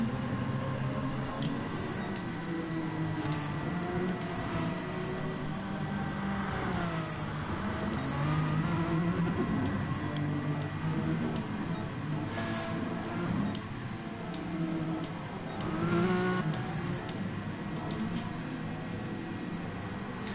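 Gr4 race cars lapping in Gran Turismo Sport, their engines droning continuously with shifting pitch as they accelerate, a steady mid-level roar with no talk over it.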